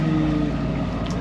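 A sailboat's motor runs steadily at sea in the Mediterranean, a continuous low drone with wind noise over the hull, close and loud, no voices.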